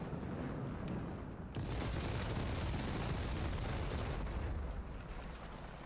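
Bomb explosion in the IL-2 flight simulator over Normandy, a dense, sustained roaring blast rumble with low booming weight that fills the whole stretch before easing slightly near the end.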